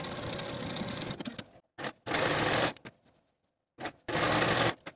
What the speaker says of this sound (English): Sew your shoulder seams with a 5/8 inch seam allowance and finish your seams.